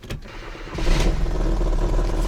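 A Hyundai Accent engine, already hot, cranks briefly, then catches and settles into a steady, loud running rumble close by.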